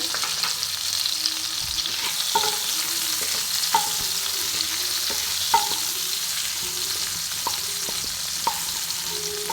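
Green tomato frying in a pan with salt, turmeric and chilli powder gives a steady broad sizzle, with soft spatula stirs and light taps recurring every second or so, no voices.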